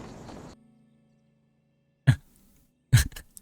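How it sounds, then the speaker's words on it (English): A cat character in the video game Palia coughs up furballs: two short, sharp, hacking bursts about a second apart after a brief low hum, close and clear with no talk. "Please stop coughing your furballs on me."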